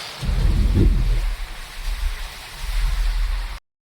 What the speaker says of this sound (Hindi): बारिश बहुत तेज़ हो रही है गाइस।